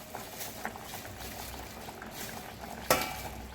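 A spicy potato curry in gravy simmering on low heat, a soft, steady bubbling hiss with a few faint pops and one brief sharper clink near the end, quiet and close.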